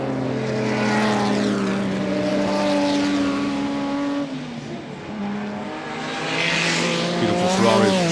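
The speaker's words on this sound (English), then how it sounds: "Beautiful Ferrari, was a regular winner here in the early days of the revival" A Ferrari race car at the Goodwood Revival roars past close by, its engine note rising and falling with gear changes, loud and continuous with a Doppler-like pitch sweep.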